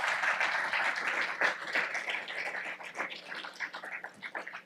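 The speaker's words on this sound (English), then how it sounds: "they deserve a round of applause" An audience applauds hospital staff at a special event at Northwestern Memorial Hospital, a short burst of steady crowd clapping that thins out toward the end.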